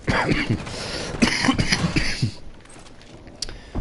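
Several rough coughs sound up close in a quick cluster, then fade into quieter background noise.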